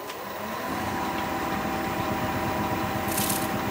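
A wood lathe turns a punky, sealer-hardened piece of wood, giving a steady loud whirring drone with rough scraping texture throughout and a brief brighter hiss toward the end, with no voices.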